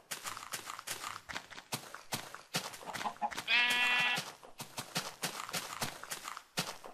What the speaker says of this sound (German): So, das ist ein Schaf hier hinten